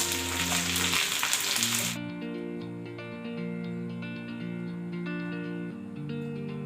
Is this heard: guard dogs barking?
no